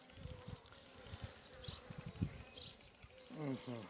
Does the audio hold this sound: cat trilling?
no